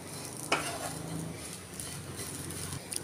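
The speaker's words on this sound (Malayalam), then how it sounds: "ഒരു മീഡിയം ഫ്ലെയിമിൽ വെച്ച് നന്നായിട്ടൊന്ന് ഇളക്കി കൊടുക്കുക." Grated coconut roasts in a pan over a medium flame while a spoon stirs it, a soft frying hiss with scraping strokes and occasional utensil knocks, close and fairly quiet.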